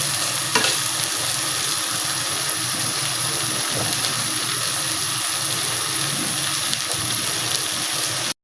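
Hilsa fish fries in mustard oil with a steady, loud, close sizzle that runs unbroken throughout, with faint stirring scrapes beneath and no talking.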